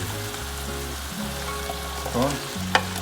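Mushrooms stir-frying in a hot pan while pasta is being prepared, a steady broadband sizzle with a brief scrape of the utensil near the end and no talking.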